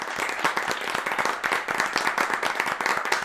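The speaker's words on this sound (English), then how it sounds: "Can we give them a round of applause?" An audience at a podcast event applauds the venue staff, a steady close burst of many hands clapping with no pause for about three seconds.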